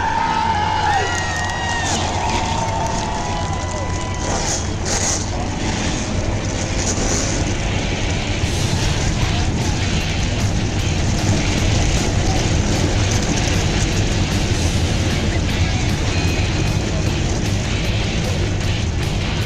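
Twenty-three Chevy big-block race car engines fire up and rumble together in a racing game at New Hampshire Motor Speedway, a loud, steady roar with crowd noise in the background.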